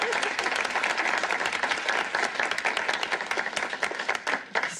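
Studio audience applauding two game show contestants, a dense steady burst of many hands clapping at close range that runs the whole stretch, with a faint voice or two beneath.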